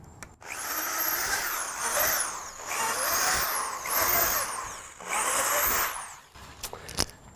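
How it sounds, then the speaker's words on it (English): A power drill bores holes in pallet wood for a rebuilt bench, four loud bursts of rising and falling motor whine, each about a second long, followed by a few sharp knocks. "as we drill our holes"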